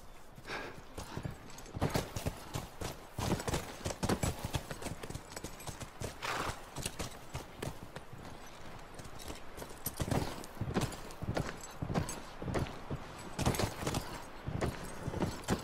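Hooves clip-clop steadily on hard ground in The Last of Us Remastered, a horse moving at an even walk close by, continuing without pause over a low background.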